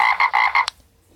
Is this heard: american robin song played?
no